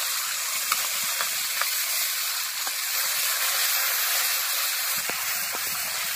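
Ginger and green chili paste hitting a hot, sizzling pan for a vegetarian doi potol curry: a loud, steady hiss and crackle throughout, with a few faint clicks, no voices.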